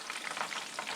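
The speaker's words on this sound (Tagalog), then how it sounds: "Pagkatapos, prito natin siya ulit" Crispy pata, a pork leg, sizzles as it fries a second time in reheated hot oil. The sizzle is close and steady, a dense crackle running unbroken with no voices over it.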